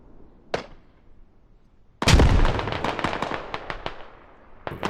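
Grenade explosions in the tactical shooter Squad on the Narva map: a sharp isolated blast, then a loud heavy detonation followed by a rapid cluster of cracking bursts and popping reports, ending with a final sharp crack.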